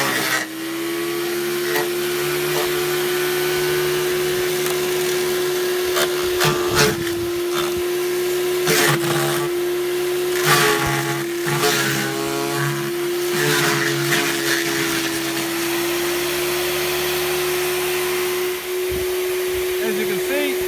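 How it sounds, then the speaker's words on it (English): A Ryobi garden shredder chews through apple tree cuttings with a steady, loud motor hum and intermittent crunching bursts as branches feed in, running continuously throughout. "the Ryobi shredder has done a pretty good job for me"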